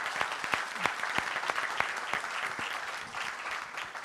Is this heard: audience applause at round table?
yes